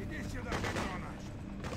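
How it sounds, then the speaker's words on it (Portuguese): Gunfire bursts out in the Freedom Fighters video game, a rapid and fairly dense stream of shots with a continuous combat din, moderately faint, while a voice is heard faintly beneath. "Para de atirar, vocês estão malucos?"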